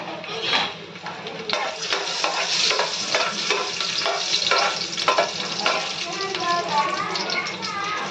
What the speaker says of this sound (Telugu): ఇందులో వెల్లుల్లిపాయలు వేసుకొని కొంచెం కాసేపు వేపాలి.